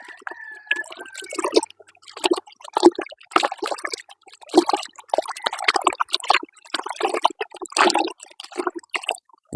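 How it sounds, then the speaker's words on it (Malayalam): A hand stirs fifty homeopathic pills into about three litres of water, making irregular sloshing and splashing bursts that come and go in quick rhythm, close up and alone. "ഈ 50 ഗുളിക വെള്ളത്തിൽ നമ്മൾ കൈ കൊണ്ട് തന്നെ ഒന്ന് ജസ്റ്റ് ഒന്ന് ഇളക്കി കൊടുത്താൽ മതി"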